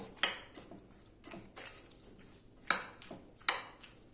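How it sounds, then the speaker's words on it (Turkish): Walnuts being stirred into a celery salad dressed with mayonnaise: three sharp, close spoon clinks against the bowl, with quiet mixing scrapes between them. "ve 2-3 yemek kaşığı kadar cevizimizi attık ve karıştırıyoruz."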